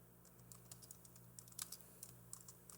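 Irregular clicking of keys being typed on a computer keyboard, quiet and close, in short uneven bursts with no talking.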